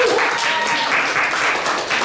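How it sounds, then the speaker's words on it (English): Applause at a government digital services show-and-tell event, a steady wash of clapping from the room that fills the whole stretch at moderate level, with a faint tone or voice briefly audible. "So another round of applause."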